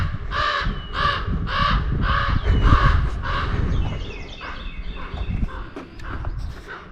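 A crow caws in a steady series of about six loud, harsh calls near a bridge on a former railway line, followed by fainter bird chatter.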